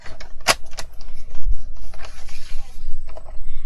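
Short, close scraping and clicking as a Craft Stash paper trimmer's scoring blade is drawn across paper, with irregular rasps and small mechanical ticks.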